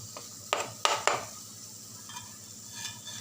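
Beaten eggs poured into small wells in a pan of spring onion masala and frying, heard as a few quick scraping and pouring bursts at close range over a faint background sizzle.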